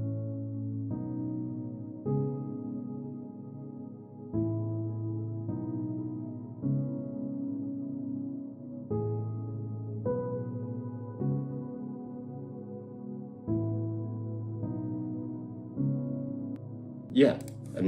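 Slow piano chords in a sad song, each top melody note struck harder so it rings out over the rest, repeating in an even rhythm, quiet and unaccompanied.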